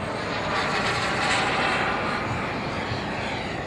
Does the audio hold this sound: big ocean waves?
no